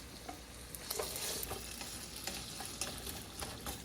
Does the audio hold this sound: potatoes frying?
yes